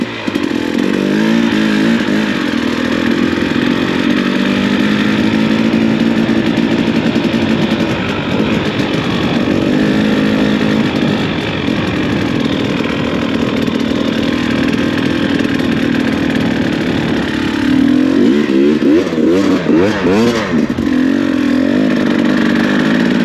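Two-stroke dirt bike ridden through water on Fraser Island, its engine buzzing loud and steady throughout with a rising rev and churning surge toward the end, close to the microphone.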